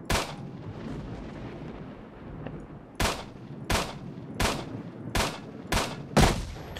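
Gunfire in S.T.A.L.K.E.R.: Shadow of Chernobyl, with about seven loud, sharp shots. One opens the clip, then six more follow in fairly even succession over a murky background.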